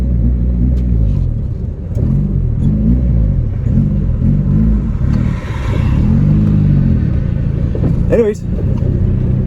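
The engine of a 1987 Yugo that sat for 15 years runs roughly and dislikes the choke. It gives a loud, uneven revving rumble with wavering pitch, rising and falling in surges, and a voice speaks briefly.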